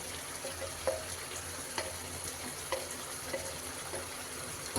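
Chicken with gongura leaves is stirred in a pan, with a steady sizzling bed broken by soft periodic scrapes of the spoon, close and moderately quiet.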